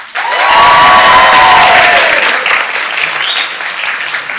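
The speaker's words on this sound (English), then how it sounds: "you've given her applause already" Applause from the audience at a Georgia Tech College of Sciences master's commencement ceremony, a loud burst of clapping that swells quickly and then tapers, with faint crowd noise and voices.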